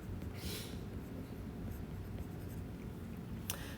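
Pen or marker writing numbers during a mechanics of materials problem, a steady scratchy scribble running throughout with a brief sharp tap near the end, fairly close and alone.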